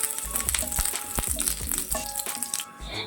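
Garlic frying in coconut oil in a pan for a tomato chutney crackles and sizzles steadily and close up, with a few sharper pops and spatters and no voices.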